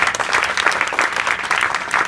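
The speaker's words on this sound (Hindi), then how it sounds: "जोरदार ताली बजाओ" A classroom of school students clapping loudly together in a quick, even rhythm, a brief burst of enthusiastic applause filling the room.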